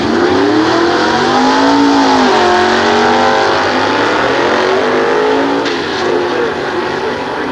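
A 1961 Chevrolet 409 drag car accelerates hard down a nostalgia drag strip, its loud engine note climbing in pitch through the gears in one sustained, close run.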